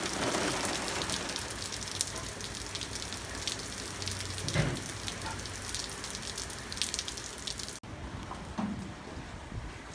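Steady rain patters down on a hard surface, a dense even hiss filling the whole stretch with a brief dip near the end and no talking.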